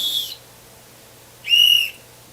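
Two short, clear whistle notes from a child, close and fairly loud, separated by about a second of quiet, with a faint steady hum beneath.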